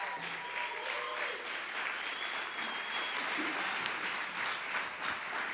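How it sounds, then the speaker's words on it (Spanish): Audience applause welcoming a speaker at a church event in Córdoba, Argentina: continuous, even clapping from a crowd filling the whole span, moderately loud and steady. "lo recibimos con un aplauso"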